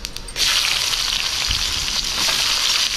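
Finely chopped onions hit hot oil in a tempering pan for a bhindi curry, bursting into a loud, steady sizzle that continues close up after a brief quiet start.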